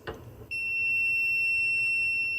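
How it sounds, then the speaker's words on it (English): A brief rustle, then a handheld thermal camera's high-temperature alarm starts, a high, piercing tone that holds continuously, loud and close. "Now the alarm is already on."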